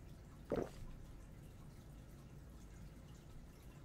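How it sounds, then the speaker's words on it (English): A water skin fills in the video game Atlas as a single short splash of liquid, followed by quiet ambient background. "So if you hit your water skin, it fills up your water skin."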